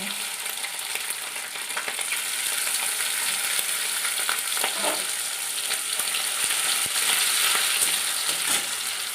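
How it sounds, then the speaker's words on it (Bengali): Grated coconut frying in hot oil with cumin and bay leaf, a steady dense sizzle with occasional stirring scrapes, continuous and close throughout. "এবার আমি এই নারকেলগুলোকে দিয়ে দিচ্ছি নারকেলগুলোকে একটু হালকা করে ভেজে নেবো"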